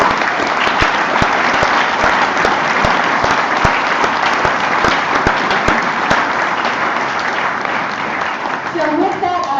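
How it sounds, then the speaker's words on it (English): Applause for the teachers at a school exhibition evening fills the room as a dense, steady wash of clapping from a large audience, loud and unbroken for the whole stretch. "So I want everybody to give you a big round of applause."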